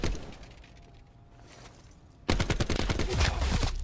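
Gunfire in Call of Duty Black Ops 4 Kill Confirmed multiplayer: quiet game ambience gives way to a sudden loud burst of rapid automatic shots that continues to the end.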